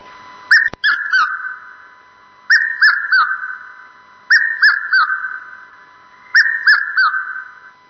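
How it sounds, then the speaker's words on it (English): A Piet-my-vrou bird repeats its call four times, each a loud, clear whistled phrase of three descending syllables. Pauses of about a second fall between phrases, and a sharp click comes near the start. "that's the Afrikaans name for that bird, Piet mijn vrouw"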